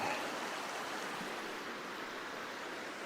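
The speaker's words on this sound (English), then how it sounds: "I was able to get across through those rapids" River rapids flowing in a shallow, clear stretch of river in Washington State, a steady broad rushing wash of water heard close and continuous with no voices.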